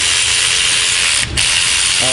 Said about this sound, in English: We'll bring in our snap-on ratchet here, and it hopefully has enough juice and power to take it off.